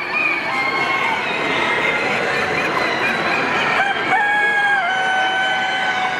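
A crowded chorus of Plymouth Rock and Sebright chickens clucking and calling, with a few sustained crowing notes, dense and continuous in a busy poultry show hall.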